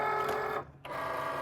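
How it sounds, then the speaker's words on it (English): A Cricut cutting machine cuts iron-on vinyl with a steady mechanical whir and motor hum that stops briefly partway and then resumes, close and alone. "I'm going to let my Cricut cut this. I'm using the everyday iron-on setting."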